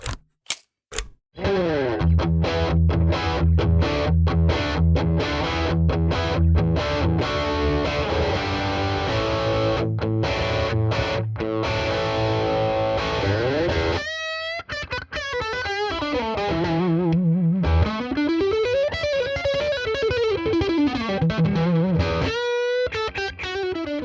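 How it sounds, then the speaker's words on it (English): An Epiphone Les Paul electric guitar with new pickups and wiring rings out through an amplifier, first strummed chords with staccato stops, then a gliding, wavering lead line, loud and steady throughout. "Restring your guitar, plug it in, and hear how it sounds"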